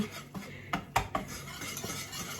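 A utensil scraping and clinking against a pan while flour is stirred and toasted over low heat, several sharp metallic taps and rubbing strokes at irregular intervals, close and fairly quiet.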